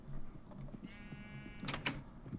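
A Minecraft sheep gives one short bleat, fairly faint under low game background noise, with no talk during it.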